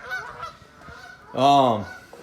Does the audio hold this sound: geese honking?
yes